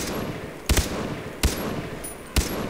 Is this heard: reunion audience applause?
no